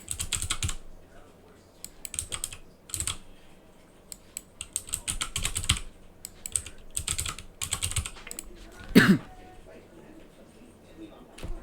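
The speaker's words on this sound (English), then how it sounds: "We didn't finish typing all this, did we?" Bursts of computer keyboard typing come in irregular clusters of quick keystrokes with short pauses between them, close and crisp, with a brief louder clatter near the end.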